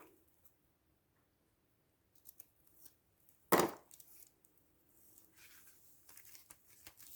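Scissors cut through paper while a small handmade spring folio is finished. One sharp, close snip stands out against a quiet room, with a few faint rustles and handling sounds around it.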